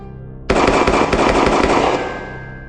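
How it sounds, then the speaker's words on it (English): Rapid gunfire erupts on a city street at night, a dense burst of shots after a brief quiet, loud and sustained for about a second and a half before fading. "Gunshots rang out."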